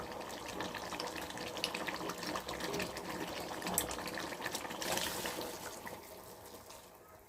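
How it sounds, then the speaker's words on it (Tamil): Hot water pours steadily into a pot of simmering masala for country chicken curry, a continuous splashing rush that swells midway and then tapers off near the end. "இப்போ நம்ம சூடு பண்ணி வச்சுருக்க வெந்நீரை அதில் ஊற்றிடலாம்"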